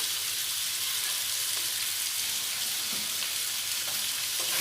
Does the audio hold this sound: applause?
no